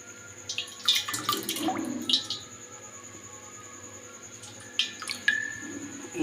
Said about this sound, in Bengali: তো জলটা একটুখানি ছেঁকে নিই।